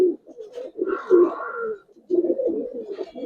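A large red khaki male Giribaz pigeon gives a low cooing call in the middle, while soft murmurs and shuffling fill the rest of the close, quiet recording.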